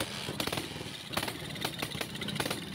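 A motorcycle engine running only on choke, sputtering and popping in uneven bursts over a rough idle, close by and fairly loud with no talking.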